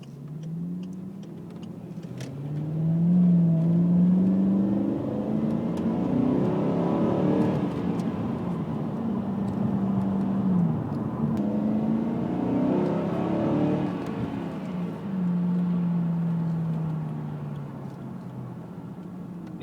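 A Ford FG Falcon XR8 V8 pulls hard through several gears while driving, each surge rising in pitch then dropping at the shift, heard from inside the car at steady loudness.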